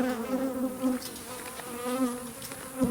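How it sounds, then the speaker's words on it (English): Bees swarm close around a beekeeper, a dense, steady buzzing that rises and falls as insects pass near, with no talking. "These bees are still all over me."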